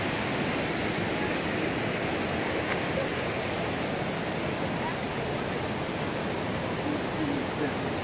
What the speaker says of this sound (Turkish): Düden Şelalesi'ndeyiz. Şu an Antalya'da.